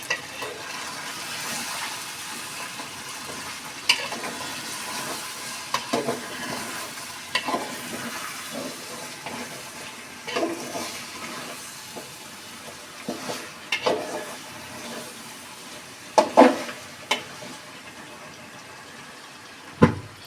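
Beef being stirred and fried in a pot on Eid-ul-Adha, the meat already well browned, gives a steady sizzle for about twenty seconds, broken by scattered scraping strokes of the stirring spoon and a few sharper clinks near the end.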